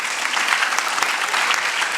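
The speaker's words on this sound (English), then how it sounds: "A big round of applause to all of you all." Conference audience of CA students applauding at a valedictory ceremony, a dense, steady wash of many hands clapping at full volume throughout, no voices standing out.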